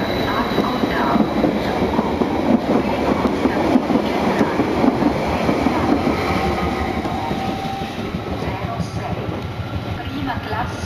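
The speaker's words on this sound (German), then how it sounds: "Binario 1, è in arrivo l'intermedio per Piazza Ascoltavo." A train pulls into platform 1 at Bellinzona station. A loud, continuous rumble and clatter of wheels and carriages fills the whole stretch, easing slightly toward the end, while a voice talks over the noise.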